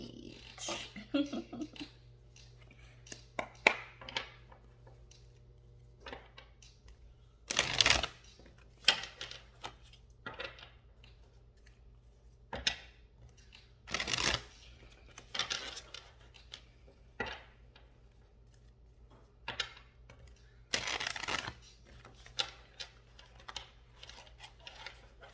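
Tarot cards being shuffled at a table: three sharp riffling bursts spaced several seconds apart, with soft taps and handling clicks between them over a quiet room hum.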